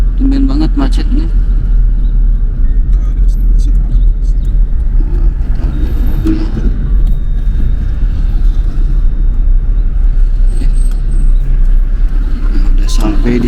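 Low rumbling road traffic in a congested Kuwait street, heard from inside a vehicle with steady engine drone and wind noise, while people talk throughout.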